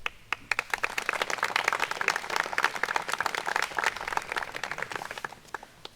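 Steady applause from an indoor audience at a DAR 100th anniversary ceremony, dense overlapping handclaps building quickly and holding at a moderate level before thinning out at the end, with no talk over it.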